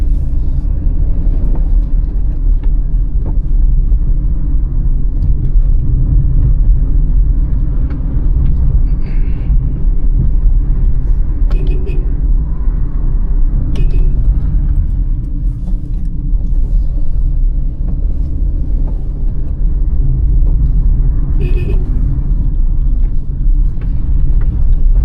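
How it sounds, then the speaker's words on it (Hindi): A Hyundai i20 engine rumbles low and steady from inside the cabin as it downshifts to second gear on a narrow mountain road. The loud drone holds throughout, with only faint clicks and little change. "स्टीप कॉर्नर है, इसलिए सेकंड गियर पे डाउन शिफ्ट।"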